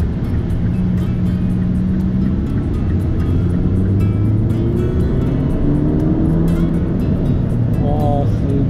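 A BMW MINI Cooper S with a Liberty Walk widebody kit and 180 horsepower accelerates smoothly, heard from inside the car as a loud, steady engine drone with rising tones and constant road noise throughout.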